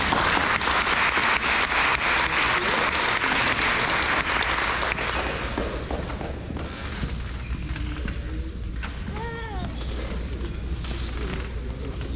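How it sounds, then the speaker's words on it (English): An audience at a high school senior awards night applauds an award winner, broad and sustained clapping that thins and fades over the later seconds as a few voices and stray sounds emerge. "One more round of applause for Ms."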